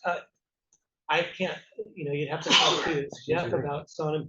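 A single sneeze bursts out in the middle of a conversation, loud and close, with people talking just before and after it.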